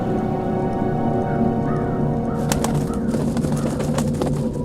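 A crow in the video game Dreamfall The Longest Journey gives bird calls over a steady ambient bed with a rain-like hiss. The calls are moderately loud, with a few sharper clicks near the end and no talk.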